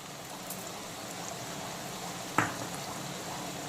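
Ginger, garlic and cumin paste frying with onions and green chilies in a pan for a homestyle pomfret fish and potato curry: a soft, steady sizzling hiss with one sharp clink partway through.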